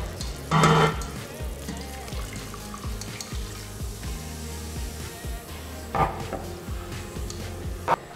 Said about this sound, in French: je rajoute mes 200 ml de champagne